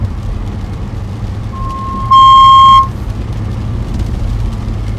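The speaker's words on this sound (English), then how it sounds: "That beeping is not from me." A steady electronic beep, one sustained tone with a harmonic-rich burst lasting under a second, cuts through the loud rumble of wind and road noise inside a storm-chasing vehicle during severe storms in southern Oregon.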